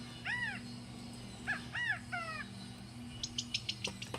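Chirping bird calls from a bird simulator video game: several sweeping chirps in the first couple of seconds, then a quick run of sharp clicky notes, all over a steady low electronic hum.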